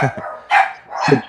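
Indoor dogs barking close by, a few sharp, loud barks separated by brief pauses, with some low vocal sounds mixed in.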